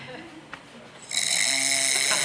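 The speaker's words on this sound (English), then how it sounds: "you started snoring on the exhale also" A sleeping man snores in a recording, with a quiet stretch followed by one long, rough, rasping snore that grows louder and holds to the end.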